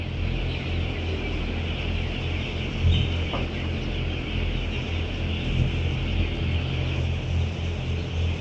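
Broiler chickens on a poultry farm cluck as a dense, moderate murmur over a constant fan-like drone, with scattered individual clucks.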